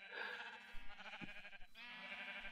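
Sheep in the video game Minecraft bleat several times, a faint wavering baa repeated over a quiet background with a soft thump in the middle.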